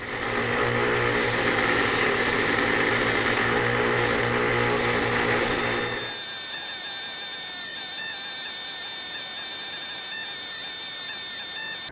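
A power tool cleans up screws. A loud, steady mechanical whir runs for about six seconds, then drops to a quieter, higher-pitched spinning whine with faint ticking until the end.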